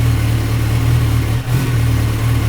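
A motorcycle engine runs at a steady, loud rev, close by. A quickshifter ignition micro-cut makes one brief dip in the middle before the drone resumes, and no one speaks.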